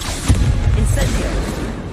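An Incendio fire spell is cast in a wizarding video game, producing a deep booming whoosh that rolls on as a sustained low rumble.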